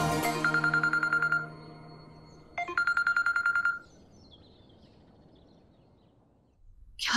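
A phone rings indoors in two bursts of rapid electronic tones, a second ring following a pause, clear and close with no talk over it.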